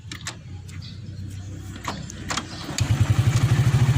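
A 25-year-old Honda Astrea motorcycle is kick-started; a few knocks and scuffs of the kick lever lead into the engine catching and settling into a close, rhythmic idle.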